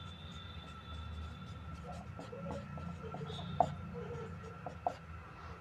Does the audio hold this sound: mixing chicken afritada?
no